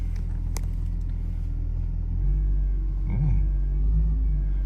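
BMW i3 car running at idle from inside the cabin, a low steady rumble that swells slightly in loudness partway through, with no voices.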